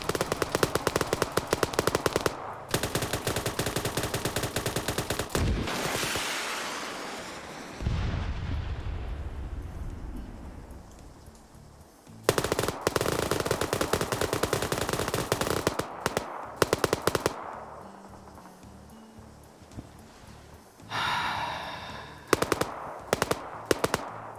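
Loud, sustained bursts of machine gun fire crackle during a PvP military video game battle, broken by sudden pauses and fading echoes before the rapid firing resumes. No voices are present.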